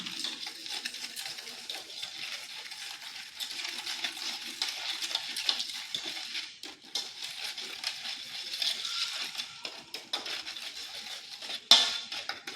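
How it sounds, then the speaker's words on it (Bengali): Powdered sugar and butter being mixed in a bowl for crisp tea biscuits, with a steady, soft scraping and clinking of a spoon against the bowl, close and fairly quiet, and one brighter knock near the end. "চিনি আর বাটারটাকে খুব ভালোভাবে মিশিয়ে নিচ্ছি।"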